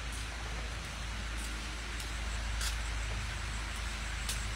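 Heavy rain pours steadily outdoors at a used car lot in Vietnam, a dense continuous hiss with occasional sharper drip ticks and a faint low rumble underneath.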